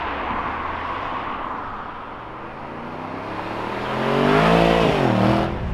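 A 2018 Mercedes-Benz E400d diesel accelerates hard from inside the cabin, a steady engine drone under road noise that rises into a swelling, climbing rev near the end.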